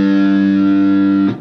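One held note on a distorted electric guitar, the fifth string tuned to G in drop C tuning, loud and sustained for over a second before being choked off.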